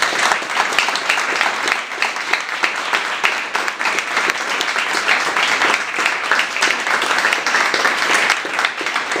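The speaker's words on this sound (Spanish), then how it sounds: "lo despedimos con un aplauso" An audience applauds after a talk, sustained even clapping from many people that carries on without a break.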